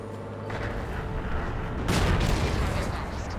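A tank cannon shot in World of Tanks lands with a loud, broadband boom at about two seconds, rising over dense ongoing battle noise and rumble, with a voice speaking underneath throughout.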